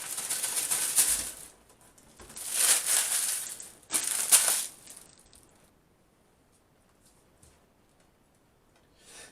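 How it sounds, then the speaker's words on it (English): A knife spreading Utterly Butterly margarine onto bread rolls, three soft scraping swipes close up, then quiet with faint handling sounds. "just spreading some utterly butterly on the bread rolls"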